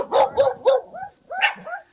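Dogs barking at a rural home, a run of several loud close barks followed by softer yips and whimpering calls, heard clearly with no talk over them.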